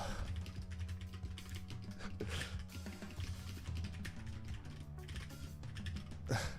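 Fast typing on a computer keyboard set to the Dvorak layout: dense, uneven clatter of keystrokes in bursts with brief pauses, close and steady, with no talking.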